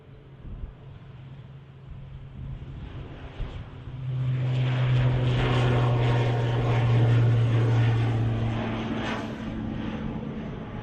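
ATR turboprop airliner at Manchester Airport building power and rolling down the runway, a quiet rumble swelling after a few seconds into a loud sustained propeller drone with a steady low hum.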